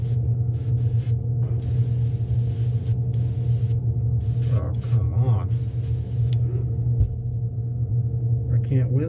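Createx Wicked Gold paint sprayed from an airbrush onto the underside of a Megabass S-Crank style fishing lure, a steady close hiss over a low rumbling hum, continuous with brief pauses, while someone talks throughout.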